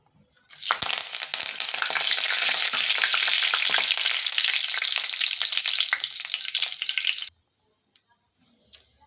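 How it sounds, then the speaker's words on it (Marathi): Curry leaves hit hot oil in a pan with a loud, steady crackling sizzle that lasts about seven seconds, then stops abruptly and leaves near silence. "तेल गरम झालं की कढीपत्ता घालून घ्यायचा"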